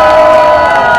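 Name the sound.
crowd cheering and shouting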